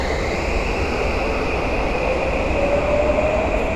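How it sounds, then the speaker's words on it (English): Inside a Tokyo subway or rail station, a train rumbles steadily as it pulls away, with a sustained low roar and a faint rising wheel whine near the end, close and continuous. "me throwing away that can actually made me miss the train"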